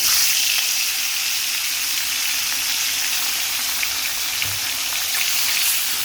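Koi fish frying in a pan with softened onion and spices, a steady close sizzle and crackle running throughout with no one speaking.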